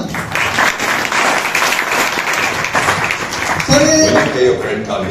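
Loud, sustained applause fills a business seminar hall in Dadri, dense clapping from a large audience running the whole time, with a voice rising over it near the end.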